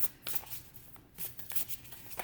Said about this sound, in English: So hopefully you can kind of see me shuffle.